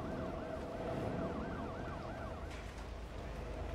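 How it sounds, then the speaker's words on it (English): Ambulance sirens wail in the city-building game Cities Skylines 2, a soft rising-and-falling warble heard at a distance over a steady low hum of traffic. "Oh, geez, there's so many ambulances."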